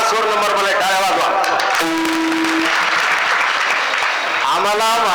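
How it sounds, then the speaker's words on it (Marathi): An audience claps throughout a Marathi devotional kirtan gathering, with dense continuous applause and voices and tonal music carrying over it. "टाळ्या वाजवा"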